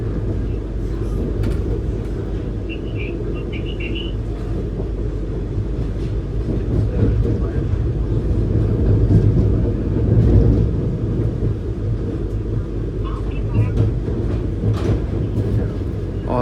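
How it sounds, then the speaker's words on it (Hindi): Interior rumble of a Vande Bharat Express train slowing through Barabanki junction, a steady low roar with faint rattles and clunks, heard from inside the coach. "ट्रेन यहाँ पे स्लो हो गई है क्योंकि मोस्टली ट्रेन यहाँ पे स्लो मोशन में ही निकलती है"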